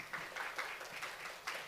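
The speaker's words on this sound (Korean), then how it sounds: "박수로 모시겠습니다." Brief applause from a forum audience welcoming a speaker from Seoul National University of Science and Technology, a steady patter of clapping at moderate distance with a few louder accents.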